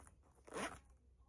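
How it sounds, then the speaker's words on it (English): A zipper is drawn closed on a soft crochet hook case in one quick, close rasping pull, with a quiet background before and after. "and then it zips up"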